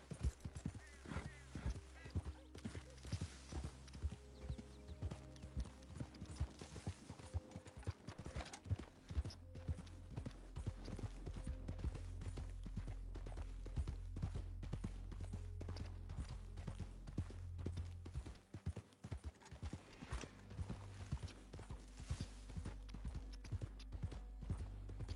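Horse hooves clip-clopping in a video game, a steady close run of sharp hoof knocks with occasional whinnies and a low engine-like drone beneath, while someone talks over it.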